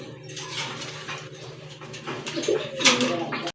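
Blackless satin pigeons coo in low, rolling murmurs close by, while someone talks over them and a brief higher chirp rises near the end.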